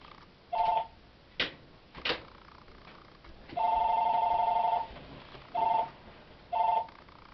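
An old-style telephone bell ringing in short bursts, with one long ring between shorter ones and a few sharp clicks, fairly close in a quiet room.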